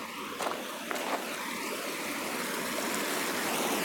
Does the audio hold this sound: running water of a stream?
yes